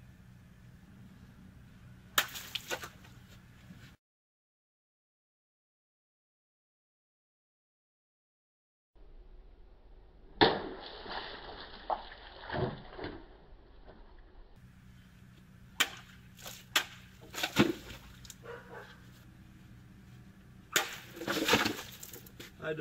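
A katana cuts through an uncapped plastic water bottle, giving a few sharp, sudden impacts with splashing crackle, close and loud, set between stretches of quiet room noise.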